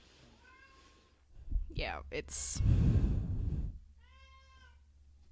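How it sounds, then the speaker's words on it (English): A cat meows in a room indoors, with a couple of short, fairly faint meows at the start and again near the end, separated by louder shuffling and a burst of noise; a person talks briefly. "The cat is here."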